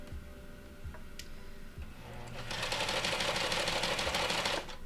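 A sewing machine stitches pieces of fabric together, starting with a few quiet clicks and handling sounds and then settling into a fast, steady mechanical whir of repeated stitching for the last couple of seconds.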